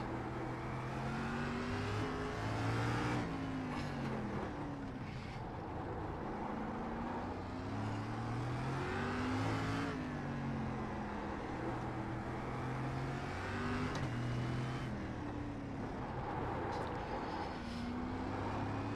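SRX race car lapping the Long Beach street circuit in iRacing, engine note rising and falling through gear changes as it accelerates and brakes, loud and continuous throughout with no talk.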